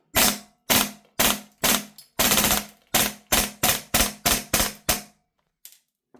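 A KWA Beretta PMX gas blowback airsoft SMG fires about a dozen sharp, evenly spaced shots, loud and close, each with a crisp mechanical clack of the slide, ending in a short trailing click.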